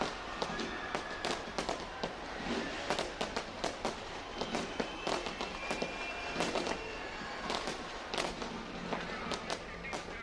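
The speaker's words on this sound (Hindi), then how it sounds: "ऑकलैंड में शानदार आतिशबाजी की गई।" Fireworks bursting over Auckland at a New Year celebration, a steady string of sharp cracks and pops, loud and dense throughout, with a low rumbling crowd and ambient noise beneath.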